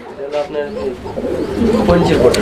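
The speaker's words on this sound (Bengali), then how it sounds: "এটা পোটার কবুতরের একটা জোড়া" Pouter pigeons at a bird farm give soft repeated throaty coos, close by, with people talking over and around the calls.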